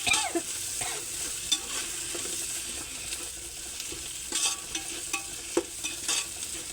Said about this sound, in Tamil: இஞ்சி பூண்டு பேஸ்ட்டு நல்லா வணங்கணும்.